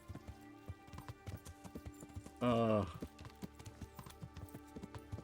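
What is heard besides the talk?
horse hooves clip-clopping in a video game, saddleless riding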